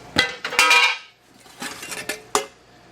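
Metal car parts clatter and clink as a hand rummages through a bucket, several loud jangling bursts with brief pauses between, close and alone.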